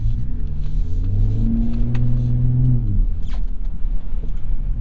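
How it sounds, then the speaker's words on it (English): Deep, loud engine rumble from a 2021 Ford F-150 Raptor with the Baja exhaust mode on, running in four-wheel-drive auto off-road. The note climbs briefly under throttle, then drops back to a steady, throaty drone. "We've got our Baja exhaust on."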